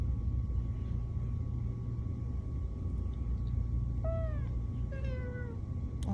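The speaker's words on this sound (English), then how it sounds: "He go meow. That's a meow cat." A cat meows twice in quick succession, clear and fairly close, over a steady low rumbling background hum.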